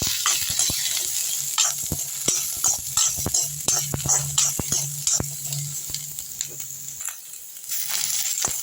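Onion and a small piece of asafoetida sauté in a pan for a kovakkai chutney, a close, steady sizzle broken by frequent sharp scrapes and clicks of a spoon stirring, with no voices.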